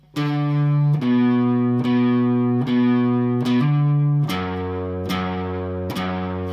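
A distorted electric guitar plays a slow riff of sustained notes, each struck cleanly with quick slurred grace notes between them, loud and alone.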